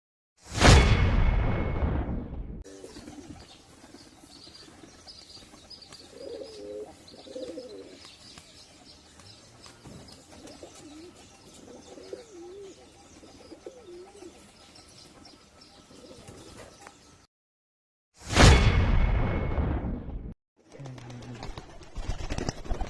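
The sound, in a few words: Giribaz pigeons cooing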